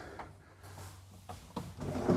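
Deep drawer in the bedroom of a 2024 Newmar Ventana 3512 motorhome sliding open and shut, a few soft rolling rumbles and light knocks close by over about two seconds.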